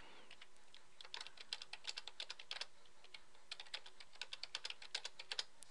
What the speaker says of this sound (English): I'm going to type in my three columns.